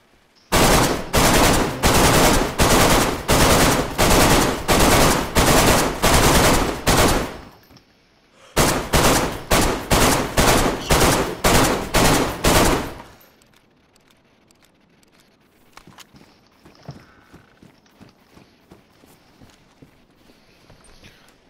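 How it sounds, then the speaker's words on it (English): Automatic gunfire in DayZ hammers an exposed top section of a base wall in two long, loud bursts of rapid shots with a short pause between, followed by quieter scattered clanks and footsteps. "I'm gonna shoot this top part here,"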